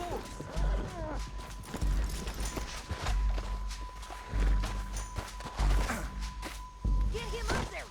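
Horses' hooves clip-clop and thud in Red Dead Redemption 2, in repeated heavy beats under urgent shouting voices and a steady tonal hum.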